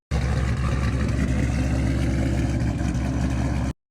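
Lopey, choppy idle from a Ford Shelby GT500's 5.8 liter Trinity V8, a steady loud low rumble with an uneven pulsing beat, heard alone and close for about four seconds.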